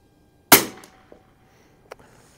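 An H&R M-12 .22 target rifle fired at a 50-yard range: one sharp close report, then a faint clink and a small click afterward in a quiet setting.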